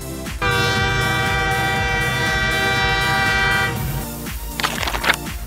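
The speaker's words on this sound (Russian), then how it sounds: "Это красный тепловоз." A red diesel locomotive blasts a loud, steady multi-tone horn for roughly three seconds, while engine rumble and wheel noise continue beneath it and fade into scattered clanks afterward.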